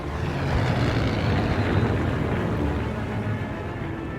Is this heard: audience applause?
no